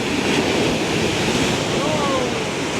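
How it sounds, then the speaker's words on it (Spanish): Ocean surf rolls and breaks steadily on the beach at Cayo Largo, Cuba, a continuous close wash of waves mixed with wind buffeting the microphone, with a faint voice in the background. "Tiene mucho oleaje también."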